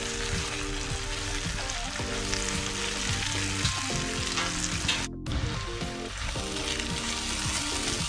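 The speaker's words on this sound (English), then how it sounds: "Keep stirring, make sure you stir so it doesn't stick to the base of the pan." Ingredients for Malaysian otak otak sizzle steadily in a pan while being stirred, a dense close frying hiss with soft scraping under it and no one talking.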